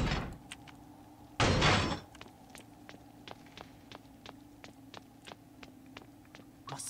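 A door in the horror game Horrorfield opens with a loud burst near the start, followed by a steady run of quick, light footsteps over a low ambient hum.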